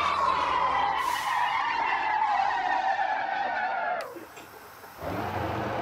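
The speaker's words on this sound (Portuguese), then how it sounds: "queimada de pneu" Tires screech in a long, loud skid as a bus brakes hard at high speed in the driving game Motor Town, the squeal wavering over engine roar before cutting off abruptly, then the engine returning.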